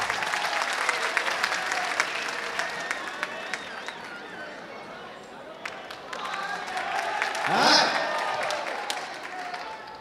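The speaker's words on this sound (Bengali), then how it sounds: "রনির জন্য জোরে একটি করতালি হয়ে যাক।" Loud audience applause and cheering for Bangladeshi comedian Abu Hena Rony at a live comedy show, a dense crowd clapping throughout with a brief louder swell near the end.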